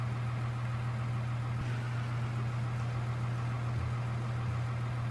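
A tractor engine drives along in Farming Simulator 2013, a steady loud low drone with a constant hum and broadband road noise throughout, no voices.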